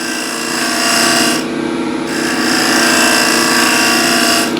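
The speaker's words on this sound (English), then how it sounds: "Spear point scraper." A spear point scraper drags across wood in steady, close-up strokes, a continuous rasping scrape with a brief pause near the middle before the scraping resumes.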